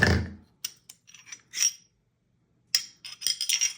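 A Glock 48 pistol being taken apart gives off sharp metallic clicks, clinks and sliding scrapes in short separate bursts with brief silences between, close and clear, with no voices.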